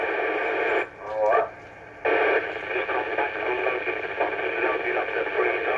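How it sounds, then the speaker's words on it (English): Radio interference noise on an HF band receiver, a steady hiss and buzz of static lasting throughout, dipping briefly in level twice near the start before returning at full strength. "Look at the level of noise that I've got."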